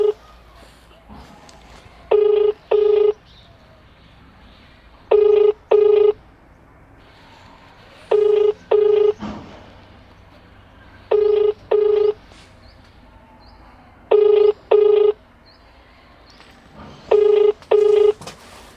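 A telephone call rings out while waiting for an answer, steady paired ringback tones repeating about every three seconds, loud and clear with no one picking up.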